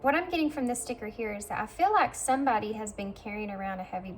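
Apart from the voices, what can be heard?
No distinct noise like a dog, phone or traffic.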